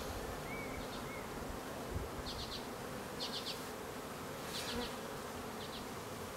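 Honeybees at an open hive during an inspection give a steady, close buzzing drone throughout, with a few faint bird chirps in the background and no talking.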